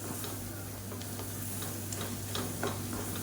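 Kashmiri chilli powder frying in hot oil in a pan, a soft, steady sizzle with faint, irregular ticking crackles and a low background hum, no voices.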